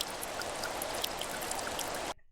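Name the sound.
rain sound effect preview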